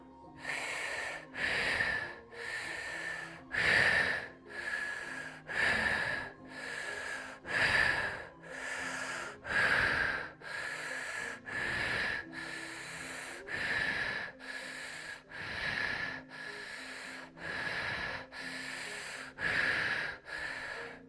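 Fast rhythmic breathwork breathing: about twenty quick, deep, evenly spaced inhale-exhale cycles, close and fairly soft, with no talk over them.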